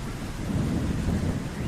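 Steady rain with a deep thunderous rumble, loud and continuous throughout, in an animated story about birds seeking shelter from a storm.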